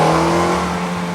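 A 2018 Ford EcoSport's 2-liter Duratec engine drones loudly and steadily during an off-road climb up a rocky hill, its tone easing slightly toward the end of the brief burst.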